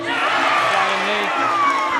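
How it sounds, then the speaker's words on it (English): A crowd at a Muay Thai fight cheers and roars in a dense, sustained wall of shouting voices, loud and continuous, with individual yells standing out above the din. "The crowd are going wild with every shot he lands, as you can probably hear"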